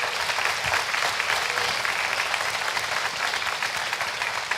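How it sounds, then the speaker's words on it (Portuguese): A church congregation applauds steadily and loudly, a dense wash of many hands clapping together with no break, filling the whole stretch at an even level. "aplauda o Senhor pelos pastores dessa igreja."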